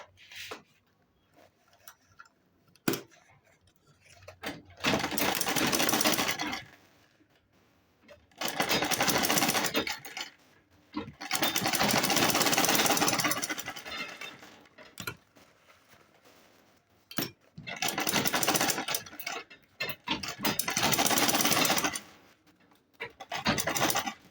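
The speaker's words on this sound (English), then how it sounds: "now what I'll do is I'll top stitch here like this all round" Sewing machine top stitching around a handbag, running in several bursts of a few seconds each with short quiet gaps between, close and fairly loud with no talking.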